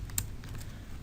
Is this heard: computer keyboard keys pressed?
yes